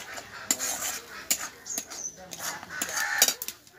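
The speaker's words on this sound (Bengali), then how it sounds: "ফুলকপি পাতার পেস্টটাকে ভালো করে আমি নাড়তে থাকবো।" A utensil stirs cauliflower leaf paste in a pan during home cooking, producing a few sharp metallic clinks and scrapes over quiet kitchen background.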